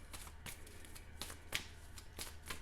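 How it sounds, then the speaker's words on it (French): A deck of cards is shuffled by hand in short riffling bursts, several quick rustling flicks in a row, close and fairly quiet with no talking. "Et je remélange pour ça."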